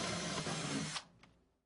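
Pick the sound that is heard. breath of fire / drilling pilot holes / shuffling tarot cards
drilling pilot holes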